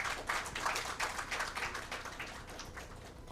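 A conference audience claps together, a dense spatter of hand claps that swells for about a second and then tapers off over a few seconds, heard at moderate room distance with no voices.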